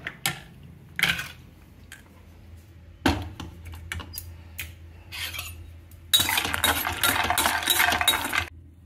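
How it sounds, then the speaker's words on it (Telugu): Cashews roast in a pan and are stirred, giving scattered clinks and scrapes of a utensil against metal, then a denser rattling burst near the end, close with no speech. "ఇప్పుడు ఇదే పాన్లో కొద్దిగా జీడిపప్పు కూడా రోస్ట్ చేసుకుందాం."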